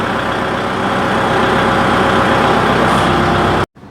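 A Kubota MU4501 45 hp four-cylinder tractor engine runs with a loud, steady diesel drone and rumble, close by and unbroken until it cuts off abruptly at the very end.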